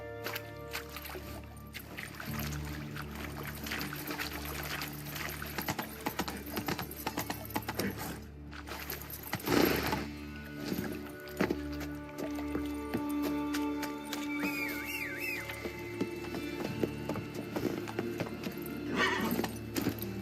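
Roach, a horse in The Witcher 3, clip-clops along with steady hoof beats and occasional whinnies, over continuous game ambience and music at moderate loudness.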